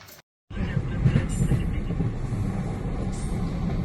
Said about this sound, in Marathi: रेल्वेमधून बोगद्यातून जाण्याचा अनुभव आला.